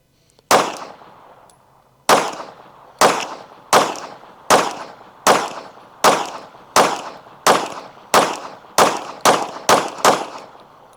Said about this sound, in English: take some shots to show you guys the recoil management on this